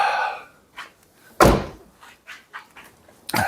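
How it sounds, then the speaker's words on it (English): The door of a Jaguar XKR X100 slams shut with a single heavy thunk, loud and close, among quieter handling clicks and a second bump at the end. "Let's close the door."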